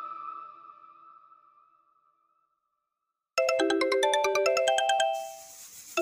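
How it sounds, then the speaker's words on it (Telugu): An incoming call rings on a mobile phone with a bright electronic ringtone: a rapid, looping run of melodic beeps, loud and close, sounding alone after a faint tone fades into a short silence. "ఏమండి నాకు కాల్ వస్తున్నట్టుంది,"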